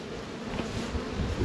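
Honey bees crowd a queenless nuc hive, giving off a dense, continuous buzz that stays steady and close.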